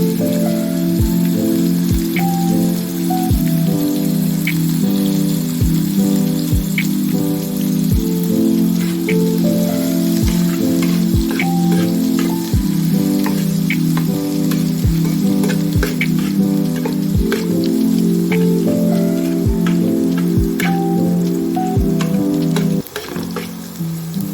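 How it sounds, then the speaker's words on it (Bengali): Dried chili, nigella seeds and crushed garlic frying in hot oil, a loud, dense, continuous sizzle heard up close, with regular taps of a utensil stirring the pan throughout. "শুকনো লঙ্কাটা দিয়ে দিয়েছি তেলে এবার দিয়ে দেবো কালো জিরে কিছুটা আর রসুন থেতো করে রাখা"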